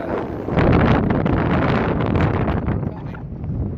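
Strong wind gusts buffet the microphone outdoors on a cloudy day, a loud continuous roar that swells and eases slightly with no pauses.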